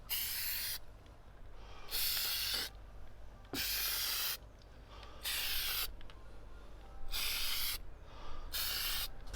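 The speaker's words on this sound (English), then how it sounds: "Let's get some plastic dip on it." Plastic Dip sprayed from an aerosol can onto parts of a BMW R1250GSA, with repeated hissing bursts of about a second each separated by short pauses, close and fairly loud.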